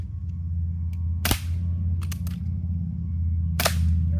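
Quick snap shooting at lifesavers as targets, three sharp gunshots, each a brief loud crack, the first two about a second apart and the third after a longer pause, over a low steady background hum.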